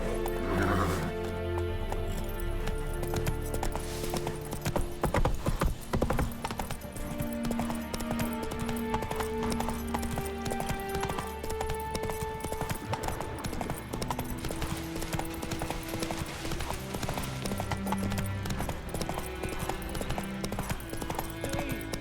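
Roach, the horse in The Witcher 3, gallops with steady hoof clatter and gives a whinny, all set inside dense game music and ambience; a voice speaks briefly.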